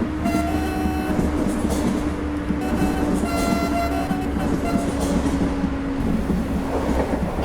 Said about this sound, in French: Là je vais laisser la rame rouler tranquillement sur l'air, on va perdre le dernier km/h tranquillement.